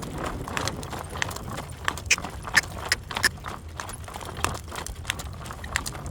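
Hooves of a horse being readied as a driving horse clop irregularly on the ground, moderately close, amid a steady outdoor background.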